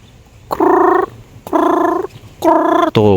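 A bird giving three harsh, buzzy calls at even intervals, each about half a second long and close by, followed by a brief higher rattling note, over a quiet low background hum.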